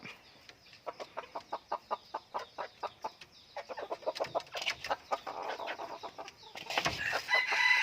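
White-eared decoy junglefowl chickens cluck in a rapid, regular series, growing busier, with a rooster's crow rising near the end; moderately close, no talking.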